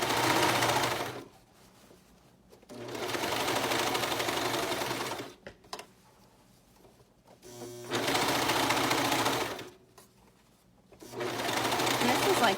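A cover stitch sewing machine hems a dress in three long, steady runs of rapid mechanical whirring, each broken by a pause in which a person talks.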